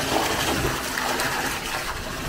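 Water pours from a bucket into a bathtub as a brief, continuous rushing splash, close and fairly loud, with no voices.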